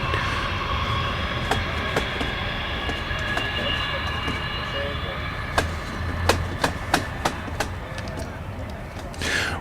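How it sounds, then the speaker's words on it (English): A high-speed train rumbles past in the distance beside a junior gridiron football field, with a steady drone and a run of sharp metallic clacks near the end, while people talk faintly. "See the train in the background."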